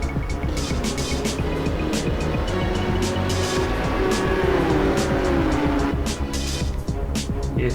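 A Lotus Evora and a Nissan GTR race at Vallelunga in the Assetto Corsa sim, GT3 class, with loud engines roaring close through shifting revs, a rising whine and brief tire squeal, all under a continuous engine drone.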